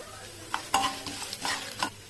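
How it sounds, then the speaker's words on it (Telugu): Cumin and fenugreek seeds frying in hot oil in a pan for pickle, with a steady low sizzle and several sharp stirring scrapes and clatters spaced across the short stretch. "ఇవన్నీ ఒక్కొక్కటి నూనెలో వేయించుకుందాం"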